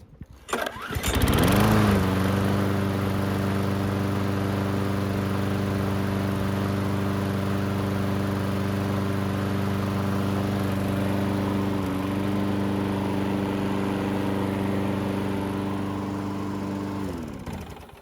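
Repaired Troy-Bilt lawn mower with new carburetor, air filter, primer and blade starts with a brief pull-start rasp, then runs loudly at a steady drone, close by and alone before cutting off at the end.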